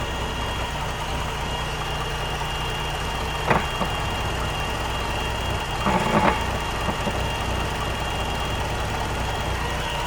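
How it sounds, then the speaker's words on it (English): A Stingray boat engine runs at a steady idle while its lower unit is shifted by the inner shift cable, with a constant hum and two brief clunks midway. "we're going to shift the lower unit with just the inner shift cable, and it'll shift freely"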